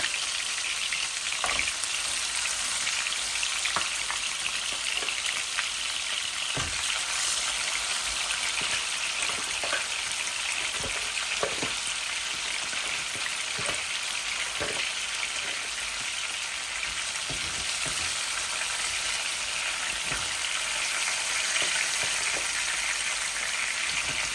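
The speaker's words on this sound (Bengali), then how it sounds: "প্রথমে বাজি করি।" Steady loud sizzle of air fish head frying in oil in a pan, a continuous hiss with scattered sharp pops and crackles throughout, no talking.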